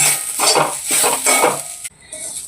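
Grated coconut roasting in a pan as a spatula stirs it, close scraping and rustling strokes over a soft sizzle, ending in a metallic clink.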